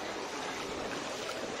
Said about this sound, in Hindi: मतलब बहुत ज़्यादा ही स्पीड से पानी आ रहा है